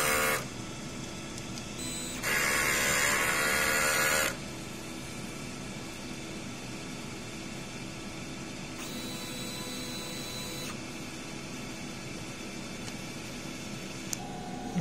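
A DTF printer running a print head cleaning whirs and hums mechanically, with a louder burst of motor and pump noise early on, then steady quieter operation and another short buzzing stretch.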